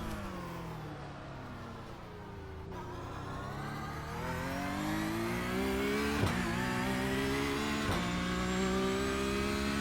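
A Porsche Cup race car engine in iRacing at Long Beach drones continuously, rising and falling through gear changes with sharp shift blips, loud and close, without voices.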